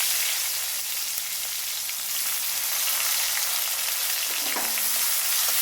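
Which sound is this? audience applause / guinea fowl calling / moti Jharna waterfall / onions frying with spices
onions frying with spices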